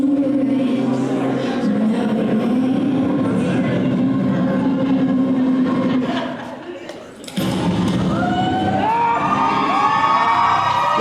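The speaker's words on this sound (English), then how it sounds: "Listen to this, crowd are up." A pro wrestling crowd in an arena roars and cheers continuously, with shrill shouts and whoops layered on top. The noise dips briefly, then surges back loud, and a commentator's voice runs throughout.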